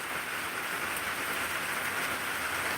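Steady rain falls in a continuous, even hiss, with no voices or other sounds standing out.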